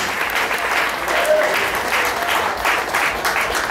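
A church congregation in Buriti do Tocantins applauds steadily and enthusiastically, a dense wash of clapping close by with a voice faintly mixed in.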